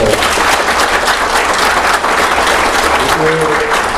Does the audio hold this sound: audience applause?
yes